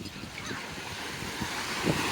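Ocean waves at a beach, a steady broadband wash of surf mixed with wind noise on the microphone, continuous and moderately loud.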